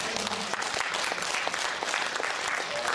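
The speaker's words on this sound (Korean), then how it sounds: "박수 받을 만하죠" Audience applause fills the hall at a Korean filial-piety instructor selection ceremony, steady dense clapping for about three seconds with no voices over it.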